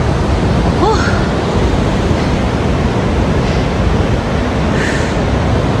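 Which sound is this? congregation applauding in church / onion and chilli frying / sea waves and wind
sea waves and wind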